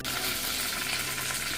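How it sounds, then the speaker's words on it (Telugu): Peanuts and tempering spices frying in a couple of spoonfuls of hot oil in a pan give a loud, dense, continuous sizzle, close and steady with no talk. "అందులో ఒక 2 డొక్కల ఆయిల్ వేసుకొని మొదట శనగ పలుకులు, తర్వాత ఇగో పోపులన్నీ కూడా ఒక్కొక్కటి వేసి ఇలా వేస్తున్నాను"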